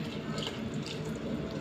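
Milk poured into a pot of cooking rice for creamy arroz con leche, a steady continuous liquid splashing and bubbling that stays even throughout, close and moderately loud with no talk.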